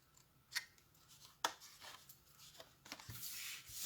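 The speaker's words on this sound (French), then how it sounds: "je vais couper les petits carrés qui sont là. Donc je coupe sur les plis" Scissors cut small paper squares along folds for a pop-up box, with a few quiet, separate snips and soft paper rustling.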